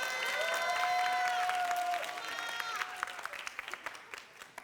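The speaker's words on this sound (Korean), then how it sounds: "박수를 한번." A church youth-service congregation applauds a middle-school choir's special song. The clapping runs under a sustained sung or spoken tone at first, then thins into scattered individual claps that fade out.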